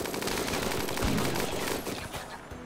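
Automated turrets in the video game Rimworld fire at raiders in rapid, loud machine-gun bursts, a dense rattle of shots that tapers off toward the end.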